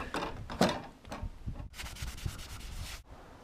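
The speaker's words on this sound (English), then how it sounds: "So now, gotta sand them." Painted steel is sanded by hand to clear burn marks left by welding tabs on a sailboat hull, giving brisk close rasping strokes in short uneven bursts, alone.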